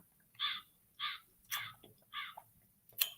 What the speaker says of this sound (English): Did I bring out the crows